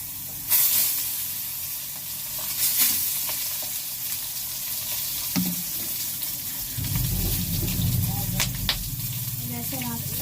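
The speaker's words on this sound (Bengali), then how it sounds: "শুকিয়ে নিয়েছি, এবার দিয়ে দেবো তেলে।" Kochu loti (taro stolons) sizzle and crackle steadily in hot oil in a pan on a gas stove, with a louder hiss as they go in and intermittent stirring clatter. It is close and continuous, with no talk.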